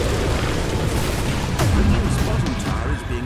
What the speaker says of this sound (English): Radiant's bottom tower is being attacked.